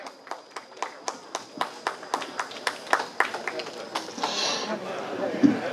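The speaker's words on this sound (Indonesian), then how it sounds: "Boleh tepuk tangannya hadirin sekalian." Scattered audience clapping at a university anniversary ceremony, starting as sparse, evenly spaced claps that gather into a denser burst near the end, with some voices underneath.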